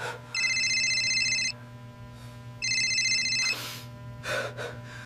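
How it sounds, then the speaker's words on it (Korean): An electronic telephone ring sounds in two long bursts separated by a pause, loud and clear over a low steady hum, with breathy gasps following near the end. "저는 일본에 있는 태우 형님에게 안부 전화를 좀 드려야겠어요"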